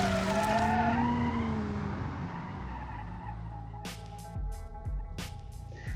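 Car tires skid and squeal through a hard understeer in the BeamNG driving simulator, a wavering screech over engine hum that fades into rough scraping, followed by a few sharp knocks and thumps.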